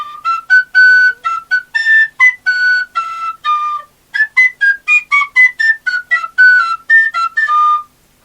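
A long series of short, tonal whistle blasts in quick bursts, loud and close, with brief pauses between groups.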